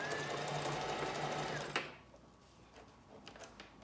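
A sewing machine stitches back over a lace closure in a fast, steady buzzing run that stops abruptly partway through, leaving faint clicks and handling noise afterward.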